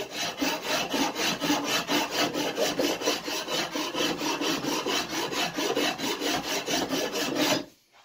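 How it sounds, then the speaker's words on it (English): A drawknife scrapes along a wooden axe handle in quick, regular back-and-forth strokes, a close rasping rhythm of about three strokes per second that stops abruptly at the end. "Scrape with it like this."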